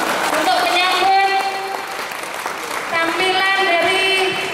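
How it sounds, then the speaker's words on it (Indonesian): An audience claps together at an Indonesian Nahdlatul Ulama cultural gathering to welcome a Pagar Nusa performance, steady applause under tonal music or singing that rises again near the end. "mari kita tepuk tangan bersama-sama untuk menyambut"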